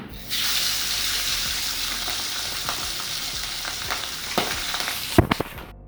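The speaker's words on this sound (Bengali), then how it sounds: "এরকমভাবে ভাজতে হবে মাছগুলো।" Pabda fish frying in hot oil for a mustard curry give off a steady, close, crackling sizzle that continues throughout, with a few sharp clinks of a utensil near the end.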